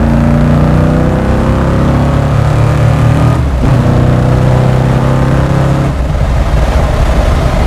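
A restomod 1969 Ford Mustang Fastback with a 347 stroker V8 and five-speed pulls hard in third gear, heard from inside the car as a loud, steady engine roar that rises through the revs with two brief dips around gear or throttle changes.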